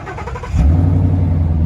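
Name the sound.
Ford Mustang GT engine remote start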